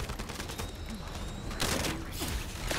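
Gunfire and blasts in a shooter looter video game, a dense rapid volley of shots and bursts over game ambience, close and loud throughout.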